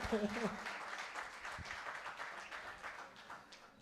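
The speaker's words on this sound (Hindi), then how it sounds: "अपने लिए तो ताली बजाएं।" Audience clapping at a Hindi shayari poetry recital, a steady patter of many hands through the whole stretch, with a short burst of voice near the start.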